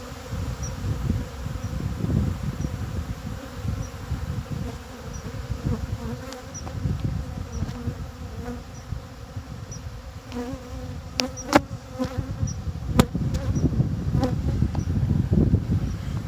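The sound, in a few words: honey bees fighting during hive robbing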